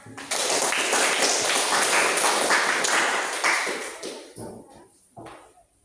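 A classroom of pupils clapping for classmates' answers, a dense burst of hand claps filling the room for about four seconds before thinning into a few scattered claps and faint voices.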